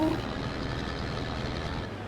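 Truck engine in Farming Simulator 22, a steady low rumble running the whole time under a speaking voice.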